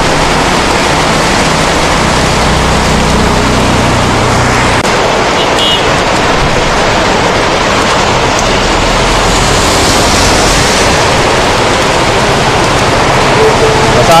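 Heavy rain pours down in a continuous loud roar, a dense unbroken hiss with rumbling low undertones and no pauses.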